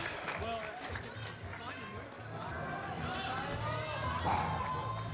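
A crowd at a PBA bowling event cheers for bowler Kyle Sherman, a busy mix of shouts and applause that runs under commentators talking.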